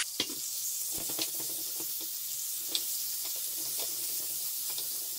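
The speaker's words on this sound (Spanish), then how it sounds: "Y cuando esté caliente, vamos a echar aceite. Porque vamos a hacer primero el pollo. Lo vamos a dorar bien. Echamos todo el pollo." Chicken pieces fry in hot oil in a pan, a steady bright sizzle with scattered crackles and small spatters throughout, heard alone at moderate volume.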